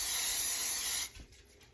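Cooking spray hissing onto a small baking dish in a steady burst of about one second, close and fairly quiet, then stopping abruptly with faint handling noise after.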